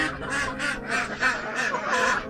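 Several farmyard ducks quack in a steady run of loud, close calls, one overlapping another without pause.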